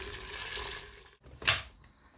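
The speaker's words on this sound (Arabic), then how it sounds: "بدي اضيف المي عشان اضغطها" Water poured from a tap into a pressure-cooker pot holding meat with black pepper and spices, a short burst of splashing and gushing that swells briefly after a quiet gap, heard close up with no talk.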